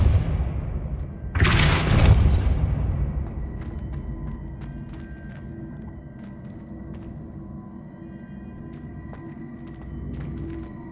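A Depulso spell blast in Hogwarts Legacy, heard as one loud, close booming burst followed by a long rumbling decay, then quieter game ambience with scattered faint clicks.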